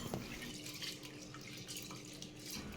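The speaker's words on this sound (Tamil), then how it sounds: "இப்போ இதை நல்லா 3 தடவை கை வச்சு நல்லா அழுத்தி வாஷ் பண்ணி எடுத்துக்கோங்க." Urad dal being washed by hand in water for murukku, a steady wet sloshing and trickling with faint drips, quiet and continuous throughout.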